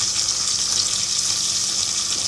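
Mint leaves and chopped tomatoes frying in a pan for channa biryani, giving a steady, close hiss of sizzling oil with no talk.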